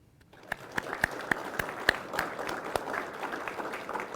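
An audience applauds at a law enforcement academy graduation ceremony, a thin scatter of separate claps that builds into steady moderate clapping over a few seconds.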